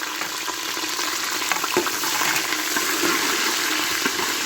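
Green chillies fry on high heat in hot oil for pudina rice, a loud, dense, continuous sizzle with small crackles and pops scattered through it.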